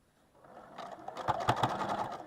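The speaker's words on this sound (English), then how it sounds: "I'm going to sew right through that intersection" A sewing machine stitches through a fabric seam intersection on a quilt pinwheel block, starting softly and then running in a quick, close, rhythmic whir.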